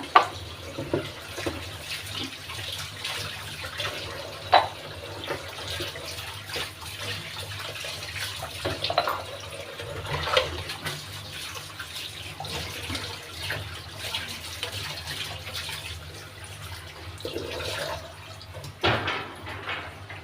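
Colored cooking pots are washed under a running kitchen tap, with water streaming steadily and splashing, plus occasional clinks of metal, close-up and moderately quiet.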